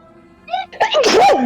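A single loud, close human sneeze, a brief inhaled buildup followed by a sharp burst, heard alone in a quiet room during a video game stream.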